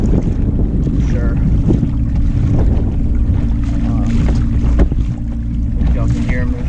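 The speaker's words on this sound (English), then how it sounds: "If y'all can hear me, it's windy today." Wind gusts roar across a kayak on Falls Lake, North Carolina, during a summer bass fishing tournament, a loud, constant rumble of wind noise with faint water sounds underneath.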